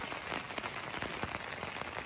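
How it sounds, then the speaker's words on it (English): Steady rain drums on a tarp sheltering campers in mountain wilderness, a dense continuous patter with scattered heavier drops, close and fairly loud, with no voices. "It just keeps raining."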